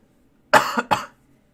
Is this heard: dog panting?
no